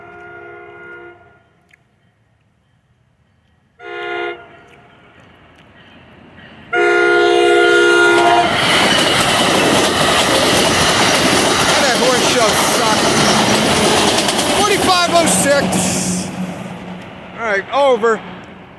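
An NJ Transit Bombardier ALP-45DP locomotive with double-deck coaches sounds its horn in short blasts, then roars past loudly and close in Middlesex, New Jersey, the rumble fading near the end as a voice speaks briefly.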